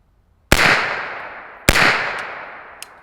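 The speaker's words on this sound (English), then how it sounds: "GHM 9C, 2 rounds down range, unsuppressed, Callaway ballistic 147 grain ammo." Two loud, unsuppressed pistol shots from a GHM 9C firing Callaway Ballistic 147 grain ammunition, about a second apart, each a sharp crack followed by a long ringing outdoor echo, then a couple of faint clicks.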